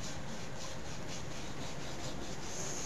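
A warmed, glossy coating is rubbed by hand across a surface, making a continuous close, dry scuffing and rubbing with steady back-and-forth strokes and no voices.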